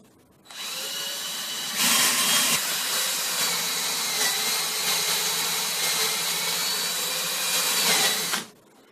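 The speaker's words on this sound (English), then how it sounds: "we're going to drill to an exact depth and then stop drilling" A power drill whirs steadily for several seconds, drilling a hole to a set depth marked with PVC tape, rising briefly in pitch as it bites, then cuts off abruptly to silence.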